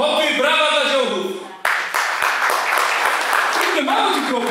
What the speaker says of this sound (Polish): Hopy, brawa dla dziobów!